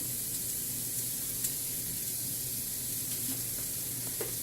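Mexican rice frying in a pan gives a steady, soft sizzle and crackle while cumin goes in, with faint stirring ticks and no voices.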